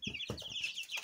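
Young mixed-breed chicks, future laying hens, give a few quick, soft clucks and peeps close by in a brief, quiet moment with no talking.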